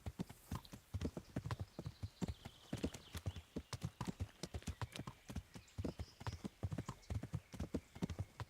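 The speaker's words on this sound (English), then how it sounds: "we're going to be relying on our ability to ride our horse" Horse hooves clip-clop at a steady gallop during riding in the game Kingdom Come: Deliverance, a fast regular rhythm of sharp hoof strikes that stays fairly faint and continuous, with no voices over it.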